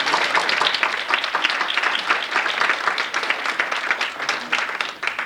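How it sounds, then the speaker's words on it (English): Audience at an alumni reading giving a steady round of applause for a professor, dense clapping throughout a small hall. "he deserves a round of applause?"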